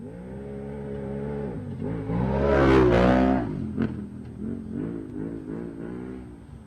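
UTV race cars roar off the line at the start of a GNCC off-road race, engines rising to a loud revving peak as they pass close, then fading into a wavering drone in the distance.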